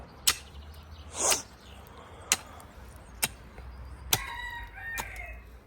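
A rooster crows in a backyard vegetable garden in Germany, a short harmonic call rising late in the clip, somewhat distant, among scattered sharp knocks and light outdoor background noise.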